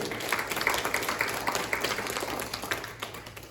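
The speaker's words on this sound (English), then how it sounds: "please give a round of applause to all of you for the work that we did" An audience at an annual meeting applauds, a moderate, steady patter of clapping hands that tapers off over a few seconds.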